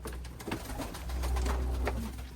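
Tumbler pigeons coo softly, a few low, muffled calls against a quiet background hum.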